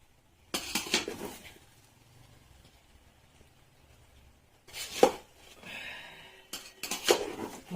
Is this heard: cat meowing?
no